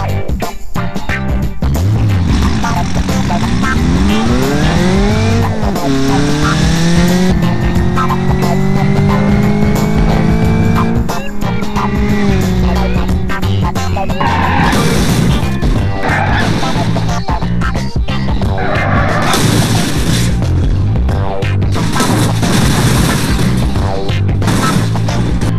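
In BeamNG.drive, a drift car's engine roars and climbs through revs before it strikes a bollard, with loud crunching impacts and debris clatter continuing over the engine noise later on.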